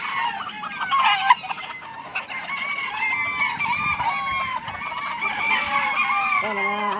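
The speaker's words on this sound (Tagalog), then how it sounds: "Mga manok." Chickens and roosters at a village fiesta in Barangay Altura cluck busily while several roosters crow loudly and repeatedly, overlapping one another close by throughout.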